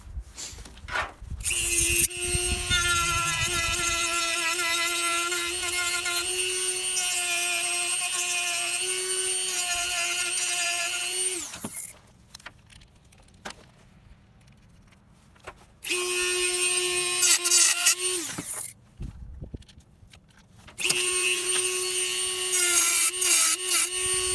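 A power tool grinds off the ends of a part during a speaker install in a Dakota, giving a steady high-pitched whine with gritty rasping in three close bursts: a long run of about ten seconds, then two shorter passes after brief pauses.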